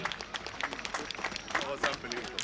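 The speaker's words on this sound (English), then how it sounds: "Give that man a round of applause," A polo crowd applauds captain Elchin Jamali, with scattered claps and crowd noise running under someone commentator who talks excitedly throughout.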